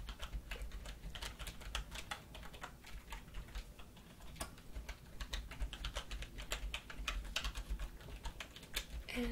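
Rapid, steady typing on a computer keyboard fills a quiet, close room, with dense clicking keystrokes and no talk.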